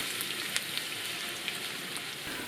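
Onions sizzle and fry steadily in olive oil in a frying pan, a dense crackling hiss with a few small pops, close and alone without any talk.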